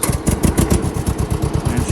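A small John Deere lawn tractor engine starting, then running with a loud, steady, rapid chugging beat right up close.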